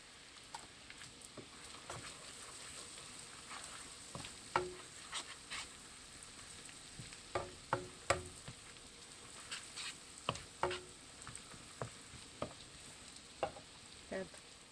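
Gentle sautéing in a pan for keto palak paneer bhurji: a quiet, steady sizzle under irregular spatula taps and scrapes that grow busier toward the end.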